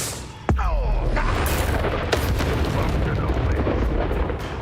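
Hogwarts Legacy spell casting: a sudden booming blast followed by a rumbling, crackling magical roar that keeps going, loud and close, with a voice heard over it.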